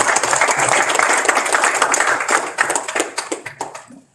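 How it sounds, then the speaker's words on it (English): Audience applause at a proclamation signing ceremony for a marine corporation's 50th anniversary, brisk close clapping that holds steady and then thins to a few scattered claps before stopping. "So let's give a round of applause."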